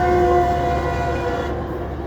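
A Metrolink commuter train passing close by, a loud continuous rumble with a brief tonal horn-like note near the start that fades as the noise carries on.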